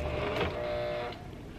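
A sewing machine runs with its presser foot raised while stitching a jacket piece, a faint steady mechanical whir that holds for about a second before dropping to a quieter hum.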